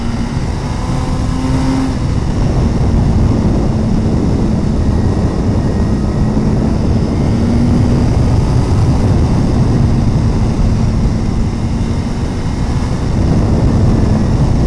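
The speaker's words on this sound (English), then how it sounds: "Again, nice positive shift from 3rd to 2nd." A 2017 Suzuki GSX-R1000R riding down a road, heard as a loud continuous engine roar mixed with wind rush, with a brief shift in engine pitch as it drops from third to second gear.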